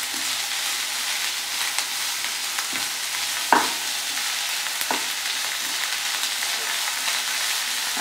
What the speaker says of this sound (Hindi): इन सबको अच्छे से मिक्स करेंगे